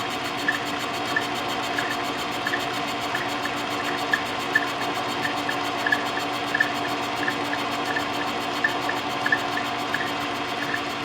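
A milling machine takes a light cut on a gear, a steady loud mechanical drone with a constant motor hum and faint rhythmic ticking from the cutter, continuous and close throughout with no talking.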